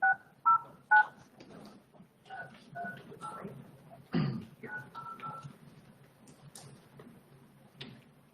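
Telephone keypad tones beep several times in quick succession at the start, then sound more faintly among murmured talk and room noise during a borough council meeting.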